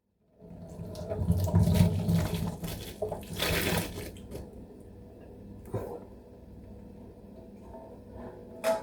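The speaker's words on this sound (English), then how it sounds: "So I'm going to pour my noodles right into the drainer." Cooked spaghetti and water pour into a drainer with a loud rushing splash that peaks early, then eases into a softer trickle and dripping.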